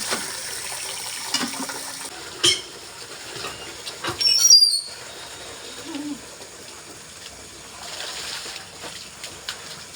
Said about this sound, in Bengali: এখান থেকে ভালো করে ধুয়ে নেবে।